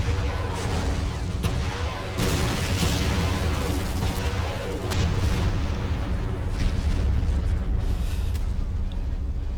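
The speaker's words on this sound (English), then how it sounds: "Rockets." Rocket strikes in the Men of War battle game pound a target, a series of heavy booms and bursts landing one after another at close range over continuous rumbling battlefield noise.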